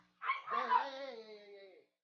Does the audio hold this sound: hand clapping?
no